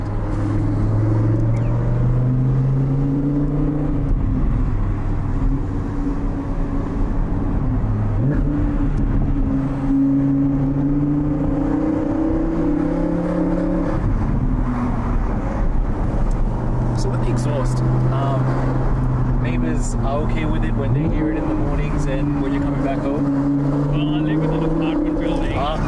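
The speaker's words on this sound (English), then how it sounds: "Reverberations from in an underground car park, basically." A Vegas Yellow Audi R8's engine rumbles and blips inside an underground car park, its pitch rising and falling with hard echo off the concrete while voices carry on in the background.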